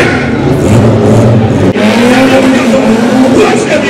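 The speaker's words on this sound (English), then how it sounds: "You have to hear Kiara engine." A car engine revs hard at a wet car show, a loud, continuous roaring drone with surging pitch and a brief break midway, surrounded by crowd noise and voices.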